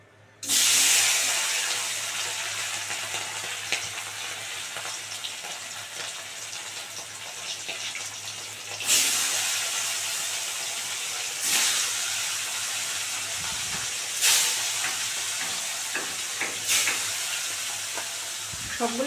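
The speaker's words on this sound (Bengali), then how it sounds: "মানে কড়াই তেল গরম হয়ে গেছে, এবারে মাছগুলো দিয়ে দিচ্ছি।" Shol (snakehead) fish fry in hot oil in a wok, a loud, continuous close-up sizzle with several sharper hissing surges as the pieces settle or are moved.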